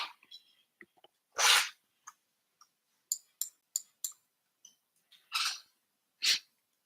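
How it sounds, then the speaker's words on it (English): A person sneezes several times, sharp bursts separated by short quiet pauses, with small clicks and soft breaths in between, close and clear with no talking. "Sneezing is amongst one of the best feelings in the world."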